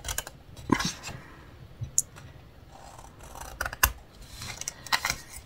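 Scissors cut paper for a scrapbooking box in a few short, crisp snipping bursts separated by pauses, close and fairly quiet.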